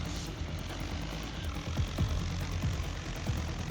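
An LKT-80 skidder with a 160 HP engine climbs a steep, slippery slope of thick mud, its engine a steady low rumble with faint knocking pulses, fairly quiet and with no voices.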